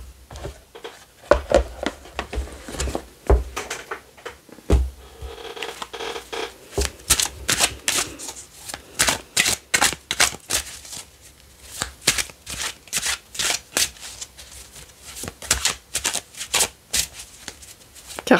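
Tarot cards are shuffled by hand, close up, in a long series of quick crisp riffles and slaps that grow denser and more rhythmic over time, with a faint low hum underneath.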